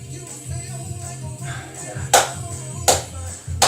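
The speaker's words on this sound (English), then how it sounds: "Clap along wherever you are." Hand claps over background music during a workout, a few sharp loud claps landing at intervals of roughly a second, standing out clearly above the steady music bed.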